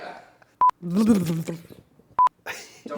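Two short telephone keypad dialing tones, each a brief clear beep, separated by a couple of seconds of people talking nearby in a studio.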